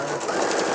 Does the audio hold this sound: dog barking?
no